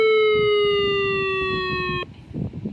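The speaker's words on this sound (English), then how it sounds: "here's the Siren Test on the Midland WR10." A Midland WR10 weather radio's test siren holds a loud, steady electronic tone, then cuts off abruptly after about two seconds, leaving faint room noise behind.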